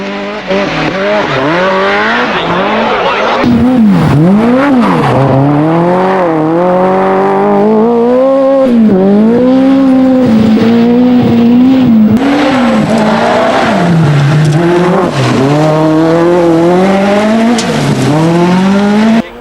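Ford RS200 Group B rally car at speed, its turbocharged engine rising and falling through repeated gear changes with sweeping pitch swoops, loud and close throughout with no talk.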